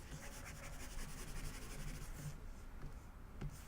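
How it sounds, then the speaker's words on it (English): Writing erased from a board during an algebra long division lesson, a steady close rubbing scrape lasting a few seconds without pause, with no talk over it. "let me erase this"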